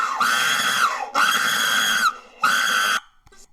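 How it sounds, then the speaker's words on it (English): A man screams loudly in a played recording, three long, strained bursts, each held for about a second, with brief gaps between them and a faint noisy tail at the end. "Fuck! Stop screaming!"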